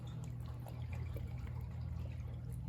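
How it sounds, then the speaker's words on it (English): Liquor pours liberally over a layered fruit trifle in a steady, soft liquid trickle that stays quiet and close, with no talk over it. "She's liberally distributing that liquor."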